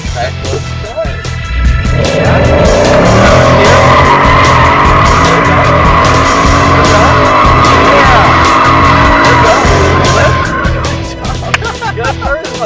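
Ferrari 488 GTB or Lamborghini Huracán drifting around a cone on a track, tires squealing loudly and continuously for about ten seconds over a roaring engine, close by, with some talk underneath.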